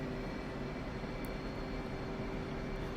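Steady, dense engine roar of an F/A-18 Hornet jet in a flight simulator game as it rolls for takeoff, continuous and unchanging at a constant level with no voices.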